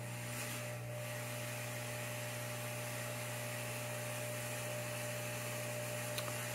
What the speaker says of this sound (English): This is the first test of the fog machine with these essential oils in it